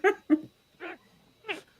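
A voice imitating a dog, giving four short separated yelps and barks with a soft whimpering edge, fairly quiet and close, with pauses between each sound.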